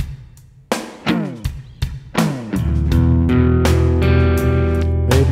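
Clean-toned electric guitar chords are strummed a few times, each one ringing out, then a single chord is left to sustain. The guitar plays alone with no voices.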